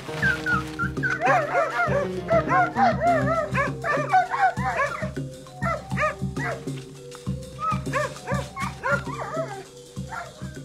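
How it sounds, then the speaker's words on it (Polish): Several dogs bark, yip and whimper in a rapid, continuous stream of close, loud yelps that run almost without pause, with no talk. "Dobra, ale uważaj na te psy."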